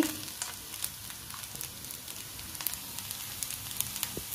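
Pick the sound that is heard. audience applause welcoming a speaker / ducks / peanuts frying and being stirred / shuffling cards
peanuts frying and being stirred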